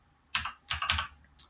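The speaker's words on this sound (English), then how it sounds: "if you just start to type tracker" Typing on a computer keyboard, a few quick close bursts of key clicks in a quiet room, with no one talking.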